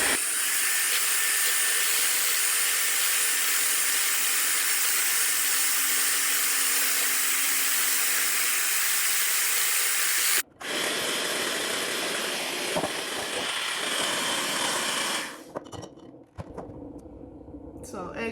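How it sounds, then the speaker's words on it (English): An electric hand mixer runs on high speed, mixing homemade ice cream with a loud, steady motor whine. It is then cut off abruptly and followed by rougher handling noise and a voice. "4 minutes into mixing it with the hand mixer"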